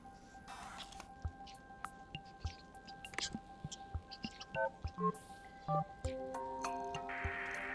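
A phone is dialed in the video game Stray, with a series of soft electronic tones and beeps of varying pitch stepping along, followed by a steady sustained tone, amid quiet game ambience.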